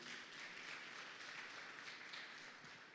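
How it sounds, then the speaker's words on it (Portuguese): Applause from a church congregation during a family worship service, a steady, dense wash of clapping that holds evenly for the whole stretch, moderately loud and with no voices over it. "Uma salva de palmas para o Senhor Jesus"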